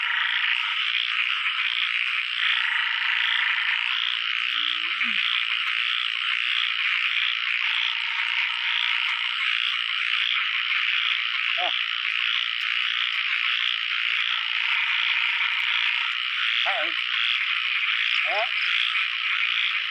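Narrow-mouthed frogs croak after the first rain of the season in a pond, their calls sounding alongside a dense, steady chorus of frogs and insects. A few separate croaks stand out close by over the constant background.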